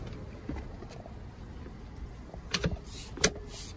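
Rear seat of a 2020 Black Edition vehicle folding down after its handle is pulled: a quiet cabin hum, then a couple of sharp plastic-and-metal clunks and a latch click near the end.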